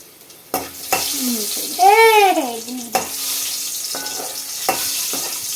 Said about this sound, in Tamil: பூண்டு பொரிஞ்சிட்டோம்